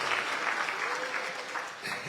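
An audience at a Guadeloupe regional ceremony honouring high-school graduates applauds a graduate, with dense, steady clapping throughout and a faint voice underneath.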